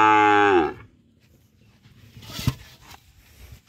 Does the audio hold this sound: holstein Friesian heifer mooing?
yes